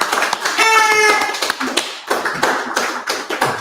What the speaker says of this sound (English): let's give a round of applause to Nasik